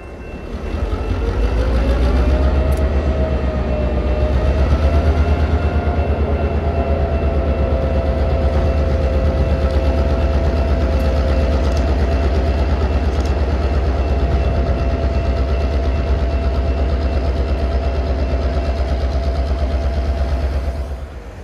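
Steady, loud low diesel throb from NECR EMD SD9 locomotive number 1750, running nearby with a constant rumble and a faint high whine rising then holding level throughout.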